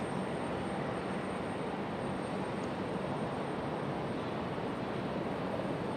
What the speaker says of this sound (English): We'll be able to call it the Beetlejuice plane